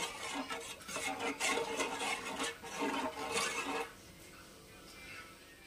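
Spice paste being stirred with a little water, a run of soft rhythmic scraping strokes close up that stops partway, leaving quiet room tone.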